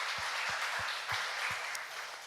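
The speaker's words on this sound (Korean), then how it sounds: "우리 박수 한번 쳐드리시겠습니다" A church congregation applauding during a Sunday worship service, a dense, steady wash of clapping filling the room, with a few louder individual claps standing out near the front.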